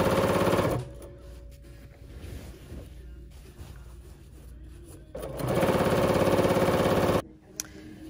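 A BERNINA sewing machine stitching quilt binding with presser foot #71 runs in two loud, fast mechanical bursts, separated by a quieter pause with light handling noise.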